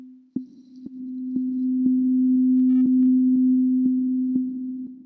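A steady sine wave from a Max patch hums continuously with reverb applied, marked by a regular series of soft clicks about every half second, holding at an even level throughout.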